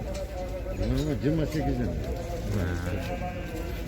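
Several ewes and lambs bleat in overlapping, wavering calls, close by, with a busy crowd murmur underneath at a livestock market in Uzynagash.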